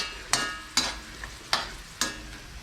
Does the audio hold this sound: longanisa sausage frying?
yes